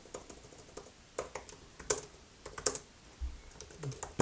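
Someone types on a computer keyboard, with quick, uneven bursts of crisp key clicks and brief pauses between words, close and fairly quiet, with no talking.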